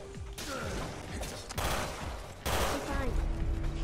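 Rapid bursts of automatic gunfire from a video game raid mode, loud and dense, with heavy volleys surging at the start and again near the end, while players talk over the shooting.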